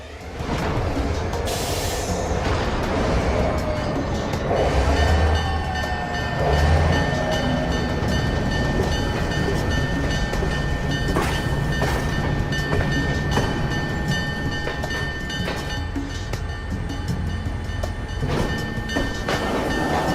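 A train rolls slowly along the rails with a continuous heavy rumble, metallic squeals and creaks, and a steady tone over the clatter.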